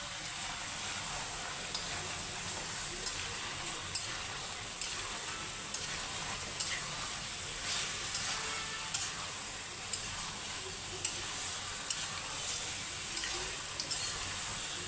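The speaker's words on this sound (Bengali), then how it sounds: "এখন আমি সব কিছু মিশিয়ে নেব ভালো করে" Spices and dried chili powder stirred together in a hot pan give a steady, close sizzle with faint scraping, unbroken for the whole stretch and with no one talking over it.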